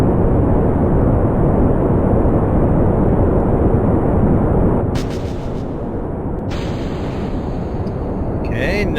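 Rocket engines firing in the Kerbal Space Program video game during a first stage separation, a loud, steady broadband roar that dips and shifts partway through with faint higher crackles.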